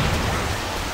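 Storm rain in Left 4 Dead 2 on the Parish level, a loud, dense, steady wash of rainfall noise filling the moment without talk.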